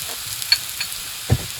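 Food fries in a pan with a steady, close, soft sizzling hiss and a couple of brief crackling pops, with no voices over it.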